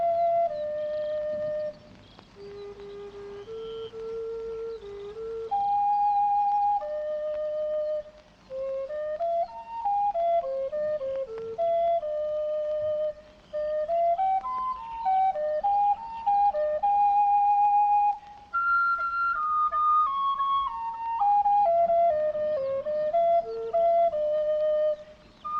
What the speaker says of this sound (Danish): Pludselig hørte jeg fløjtetoner.